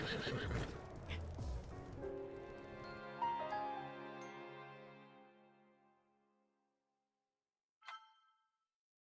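A loud whinny from a stolen wild horse in a video game rings out and fades over several seconds, with a few hoof clops at the start and one brief sharp sound near the end.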